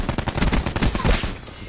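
Gunfire from Call of Duty Black Ops 4, a rapid loud burst of shots landing a headshot, repeating quickly for over a second and then tailing off.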